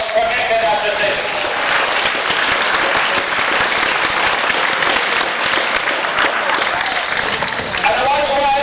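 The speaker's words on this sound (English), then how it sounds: "Galway United deserve a big round of applause for making that decision" Sustained applause from a crowd at a sports ground for Galway United, steady and loud throughout with a dense wash of clapping and no break.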